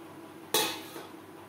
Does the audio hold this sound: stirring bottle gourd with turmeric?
yes